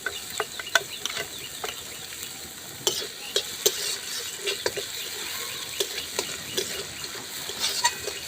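Chopped onions frying in a pan with chopped ginger give a steady sizzle close up, punctuated by frequent light clicks and scrapes of a spatula stirring, with no talk.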